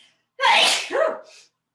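A single loud, close sneeze during a floor exercise class, a sharp sudden burst with a two-part shape, followed by silence.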